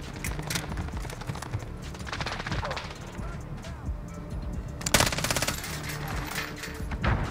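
FiNN LMG light machine gun fire in the video game Modern Warfare: rapid bursts of automatic shots rattle over a busy game soundscape, with a louder burst near the end.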